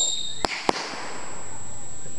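A firework bursts after a countdown: two sharp, loud bangs a fraction of a second apart, then a lingering crackling hiss that slowly fades outdoors.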